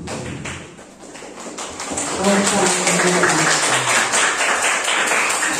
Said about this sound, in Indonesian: Coba berikan tepuk tangan kelompok 1.